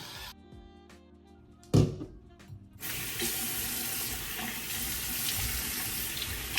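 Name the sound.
splashing water rinsing face at sink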